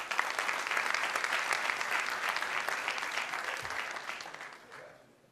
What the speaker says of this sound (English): Let's give our General Board a round of applause.